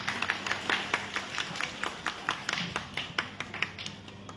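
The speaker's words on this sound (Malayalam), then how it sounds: "ഒന്ന് കൈയടിക്കൂ." Audience hand clapping at a Bhagavata Saptaha devotional venue, a quick run of sharp claps repeating at an even pace for several seconds, fairly close and with no voices over it.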